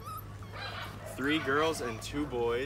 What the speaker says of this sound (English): 5 puppies